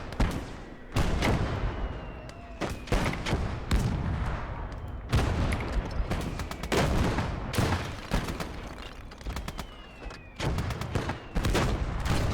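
Gunfire and heavy tank cannon fire in the World War II strategy game Gates of Hell: Ostfront, Talvisota winter war battle, with loud repeated booming shots, crackling rifle and machine-gun bursts and rumbling explosions throughout.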